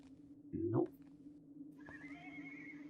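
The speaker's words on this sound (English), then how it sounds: "Like horse? You can hear it in the distance." In a video game, a horse whinnies once, briefly and faintly, off in the distance, while an electronic hum runs underneath and a soft tone rises afterward.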